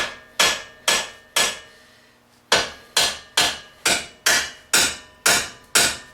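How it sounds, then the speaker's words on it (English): A mini sledge hammer taps the outer frame of a Nissan Murano lower control arm. Sharp, ringing metallic blows come close and loud, three quick ones, a short pause, then a steady run of eight more, each decaying briefly. "you can just use your mini sledge and ever so carefully against the outer frame of this control arm"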